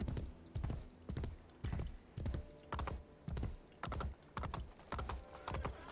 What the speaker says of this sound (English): Here's my horse. Now I ride my horse.